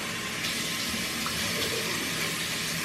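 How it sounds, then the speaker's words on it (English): Water runs from a bathroom sink tap as someone splashes it on their face in the morning. A steady, close hiss of flowing water continues with soft splashes and no talking. "so I just splash it with water in the morning"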